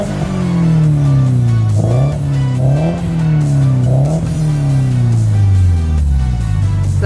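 A Subaru STI engine revs repeatedly up close, loud and throaty, climbing and dropping in several rising sweeps before settling back to a lower drone.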